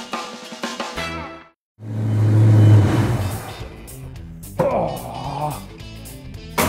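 A car engine runs nearby with a rising, revving surge after a brief gap, then settles under a mix of clatter and background noise during a home wheel alignment job.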